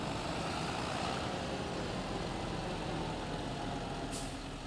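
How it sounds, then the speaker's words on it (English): A tractor with a trailer parks on a farm in a farming video game, a steady, even engine drone with a brief hiss near the end. "We'll park the tractor and the trailer right here."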